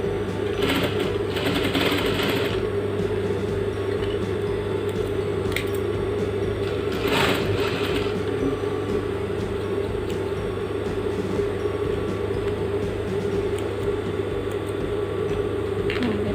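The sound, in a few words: sewing machine stitching a jacket pocket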